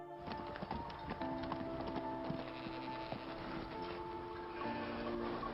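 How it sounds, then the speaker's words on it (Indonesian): Horse hooves clip-clop in a steady, continuous rhythm over a constant background, with no voices. "Nabi Yakub pun langsung mengendarai kuda."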